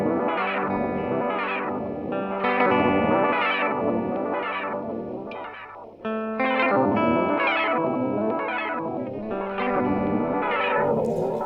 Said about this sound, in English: when you press this momentary again, you get some really interesting kind of like a pitch modulation effect, which kind of sounds like a step sequencer almost